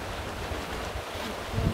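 Wind gusts across a seaside walking trail on the Homigot peninsula coast, a steady low rumbling buffet against the microphone that swells near the end, with no talk.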